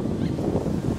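Wind blows steadily on an outdoor bike ride near Tampere, Finland, a constant loud rumbling gust buffeting the microphone with no pauses and no voices.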